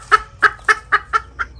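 An upset, injured hen clucks six times in a quick, uneven series, loud and close, with nothing else heard.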